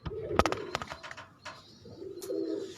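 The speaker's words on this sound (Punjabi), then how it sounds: "ਇਹ ਮੇਰਾ ਸਭ ਤੋਂ ਫੇਵਰੇਟ ਕਬੂਤਰ ਹੈ" Breeder pigeons in a Faisalabad loft coo in low rolling phrases, one near burst early on, then quieter cooing that swells again toward the end, with scattered wing flutters and clicks.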